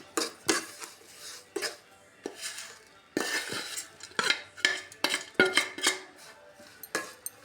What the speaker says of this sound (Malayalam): ഇതിലേക്ക് നമുക്ക് വറുത്ത് വെച്ചേക്കുന്ന മാങ്ങ കുറേശ്ശെയായിട്ടിട്ട് ഇളക്കി കൊടുക്കാം